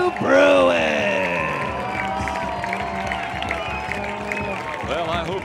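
A college men's soccer crowd cheers and applauds loudly after a 2-1 win, with sustained whooping and shouting held steady across the clip, while an announcer's amplified voice rings over the noise.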